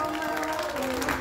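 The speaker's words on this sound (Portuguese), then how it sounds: "pessoal, palmas para" Party guests clap for a grandmother's birthday surprise in São Paulo's east zone, a steady round of applause mixed with sustained tonal sound like music or voices, holding even for just over a second.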